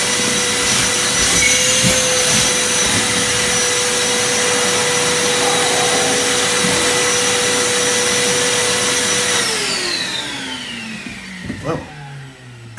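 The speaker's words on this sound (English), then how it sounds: "caught me hoovering again" A vacuum cleaner hoovers loudly and steadily in a model railway room, then switches off and winds down with a falling whine near the end.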